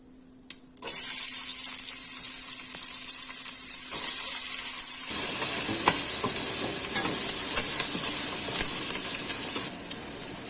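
Chopped onion hits hot oil in a pan at about 0.8 s and sets off a loud, steady sizzle that carries on to the end with faint stirring, as the base for homemade gobi manchurian.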